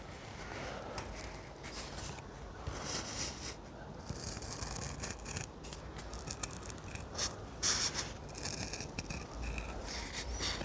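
A Kydex holster shape is cut out by hand, heard as faint, intermittent scratching and snipping strokes in short bursts against a quiet room.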